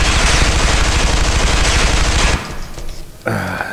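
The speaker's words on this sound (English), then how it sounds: "You can shoot lights out" Rapid automatic gunfire in the video game Interstellar Marines as lights are shot out, a dense, loud burst lasting a couple of seconds, then a brief quieter lull before another sharp shot rings out.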